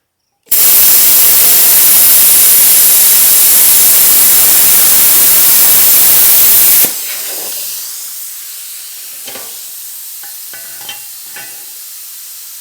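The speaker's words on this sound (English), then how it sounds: "So I'll just take the plasma torch here, put my gloves on," A plasma torch cuts the metal track edge of a vintage dragline crane, a loud harsh roaring hiss that starts abruptly and runs for several seconds, then stops, leaving quiet clanks and light handling sounds.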